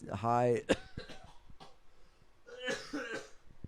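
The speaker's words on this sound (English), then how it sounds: "I'm still coughing" Someone coughs and clears their throat nearby, with rough vocal sounds and short sharp bursts close together.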